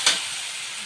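Onions tipped into spiced meat frying in oil in a pot: a quick hiss as they land, then steady loud sizzling close up.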